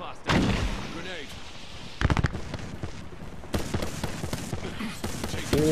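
Cluster of knuckle cluster grenade blasts in Apex Legends, sharp bursts and crackling pops in rapid clumps over several seconds, loud and close, with a voice talking over the barrage.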